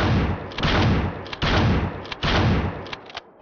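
Loud gunshots in the top-down shooter game Hotline Miami 2: four heavy, booming shots fire one after another at steady intervals, each one ringing out briefly, with nothing else heard.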